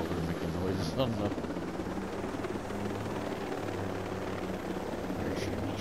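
In the video game Tom Clancy's, a helicopter makes a steady low rotor drone that runs throughout at moderate loudness, with faint voices talking underneath.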